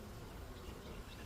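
Bees on a frame during a mid-spring beehive inspection, giving a faint, steady buzzing hum throughout with a short louder bump at the very end.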